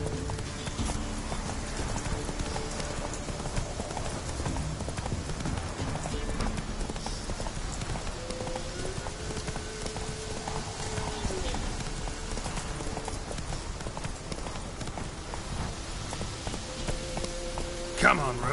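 Steady rhythmic hoofbeats of the horse Roach galloping in The Witcher 3: Wild Hunt, layered with rain and game sounds, with voices in the background.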